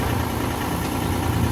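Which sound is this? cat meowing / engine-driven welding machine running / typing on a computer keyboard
engine-driven welding machine running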